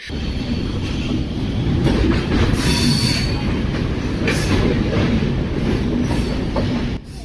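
The Araku train near Vizag runs on its rails with a loud, continuous rumble close by, its wheels squealing and the carriages rattling throughout, with no talk.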